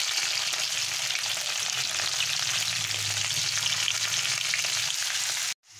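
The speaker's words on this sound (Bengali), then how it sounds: "এবারে আলুটা আমি দিয়ে দিলাম। একটু নুন আর হলুদ দিয়ে" Potato pieces frying in hot oil seasoned with salt and turmeric, a steady loud crackling sizzle lasting several seconds before cutting off abruptly near the end, with no voices.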